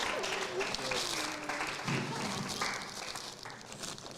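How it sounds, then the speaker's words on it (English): Guests at a live book launch applaud: continuous crowd clapping carries throughout, with voices talking and a tonal voice rising and falling underneath the applause at moderate volume. "I think they deserve a big round of applause."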